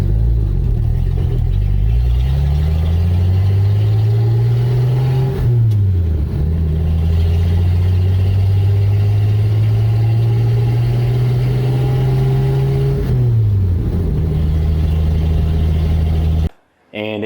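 A 1966 Ford F100 with a loud glass pack exhaust drones steadily close by, its low engine note dipping and rising twice as the throttle shifts, then cutting off abruptly near the end.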